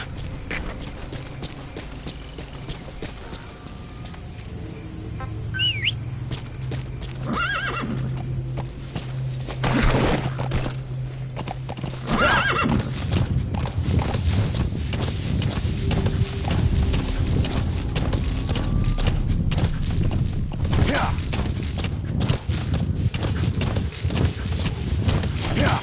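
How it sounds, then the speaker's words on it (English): Hooves clop steadily as a horse gallops across open ground in Metal Gear Solid V, with an occasional faint whinny, wind noise and brief game voice lines over a continuous rumble. "Use your horse."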